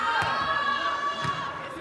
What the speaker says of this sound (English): This crowd getting louder with each hit from Onuma.